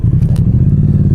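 A 2019 Triumph Street Twin motorcycle engine runs close and loud, a steady low, throbbing idle with a rapid pulsing rhythm.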